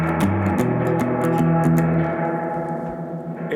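Guitar run through a Gamechanger Audio Light Pedal on its reflect setting gives a lo-fi delay, with sustained chords and repeating echoes that blur together and slowly fade, loud and steady with no voices.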